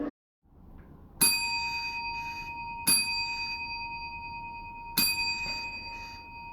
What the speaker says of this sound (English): with the help of my bell, ringing it 3 times